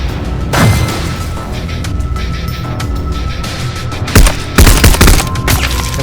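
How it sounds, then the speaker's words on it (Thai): A gun turret in the video game Slaycation Paradise fires loud rapid bursts, with sharp volleys near the start and heavier repeated blasts toward the end over a constant rumbling game backdrop, with no talk. "ป้อมปืน"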